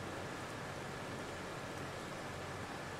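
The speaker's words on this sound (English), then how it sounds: "But here comes the rain." Rain in the Farming Simulator 22 video game, on the Pioneer map, falls as a steady, even hiss of dense rainfall with no pauses, fairly soft and unbroken throughout.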